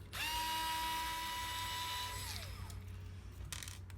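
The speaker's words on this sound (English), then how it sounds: "Dad's screwing the bolts in now, and we're nearly done putting everything in." A power screwdriver drives bolts into the body of a Traxxas TRX4 Sport RC truck in one close, whining burst that spins down, followed by a couple of faint clicks.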